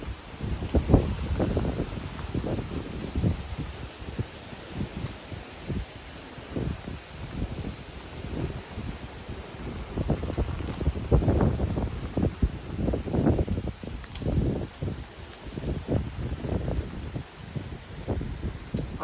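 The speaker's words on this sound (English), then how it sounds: "another gust." Gusts of strong wind buffet the microphone in irregular surges and rumbles, rising and falling over about twenty seconds during a storm with rain, with no talk.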